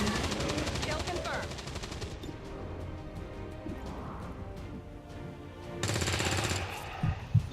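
Rapid automatic gunfire in XCOM 2: War of the Chosen, sustained bursts that thin out and then flare again near the end, with a sharp thump close to the close.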